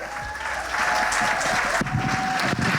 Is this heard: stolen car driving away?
no